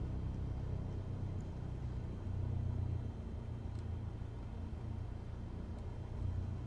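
Steady low droning of a Cessna 172 piston engine held at 1000 RPM in Microsoft Flight Simulator, a continuous rumbling hum with a slight swell in the middle and no talking.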